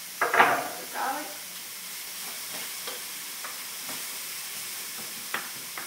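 Diced garlic frying in a plain, non-non-stick fry pan, opening with a sharp burst of sizzle and stirring that settles into a quieter, steady crackle with occasional scrapes, close by, with a brief voice at the start.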